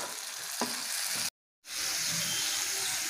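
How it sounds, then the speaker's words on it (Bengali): Spices stirring and frying in a pan make a constant close hiss with a light scrape of stirring. The sound drops out completely for a moment, then the sizzle returns. "একটু মিশিয়ে নেবো সব মশলাগুলো।"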